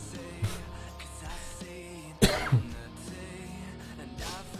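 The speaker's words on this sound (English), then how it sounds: "Sorry for the coughs." A single harsh cough bursts out near the microphone, followed by a softer second cough, over quiet background music.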